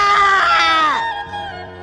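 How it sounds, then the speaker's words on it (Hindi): A loud, drawn-out scream sound effect for a man sinking into quicksand, wavering as it falls in pitch, then cutting off into a low fading rumble. "रामू की चीखें गूंजी।"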